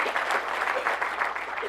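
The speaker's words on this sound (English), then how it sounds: "let's have a quick clap" A conference audience at a Microsoft Ignite 2016 session applauds briefly, a dense, steady clatter of many hands clapping throughout the room.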